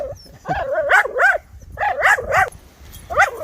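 A rescue dog barks and whimpers in short bursts of high, wavering yips, close and fairly loud, grouped in three clusters with brief pauses between.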